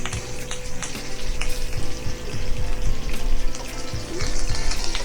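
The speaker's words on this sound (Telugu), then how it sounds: "ఇవన్నీ కూడా లైట్గా వేగిన తర్వాత ఇందులోకి ఒక 3 రెమ్మలు కరివేపాకు కూడా వేయండి" Cumin, crushed dried red chillies and curry leaves frying in oil, a steady dense crackling sizzle throughout with faint stirring, close and fairly loud, no talking.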